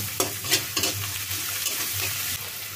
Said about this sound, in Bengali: এটা কিছুটা ভেজে নিয়ে আমি এখন এখানে সামান্য আদা বাটা, রসুন বাটা দিয়ে নাড়িয়ে দিচ্ছি।